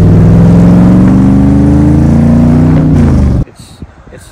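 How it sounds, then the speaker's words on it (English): A car accelerating hard from the pedal, its engine note climbing loud and close for about three seconds before cutting off abruptly, leaving only faint low noise. "just the absolute immediate acceleration from the pedal"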